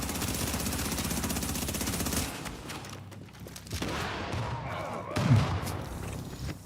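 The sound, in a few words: explosion in the video game The Division 2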